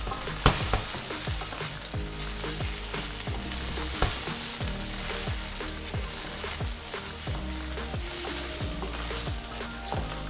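Vegan dish frying in a pan while being mixed, a constant close sizzle broken by repeated scraping, clattering strokes of a utensil against the pan.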